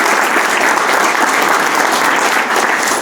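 A warm round of applause for three panelists at a Cajamarca Chamber of Commerce and Production industry forum; loud, dense, sustained clapping from a large audience, steady throughout without voices over it.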